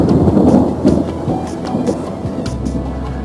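Thunder rolls during a rainstorm high up on a tower, a loud, close rumbling crack that fades into steady rain patter and dripping over a few seconds, with no talking.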